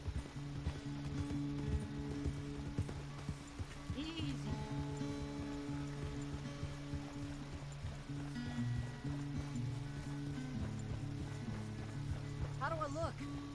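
Horse hooves galloping in a console video game, a steady thudding gait running under game music and ambience while a character speaks briefly.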